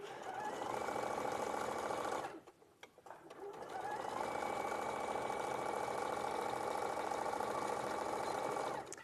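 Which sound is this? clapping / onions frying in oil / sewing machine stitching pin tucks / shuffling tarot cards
sewing machine stitching pin tucks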